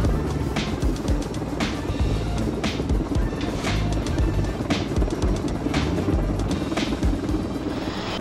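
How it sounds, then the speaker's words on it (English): Helicopter carrying a massive AC unit, its rotor beating in a fast, loud, even rhythmic chop with steady engine roar underneath, close and continuous. "The helicopter struggled to transport a massive AC unit."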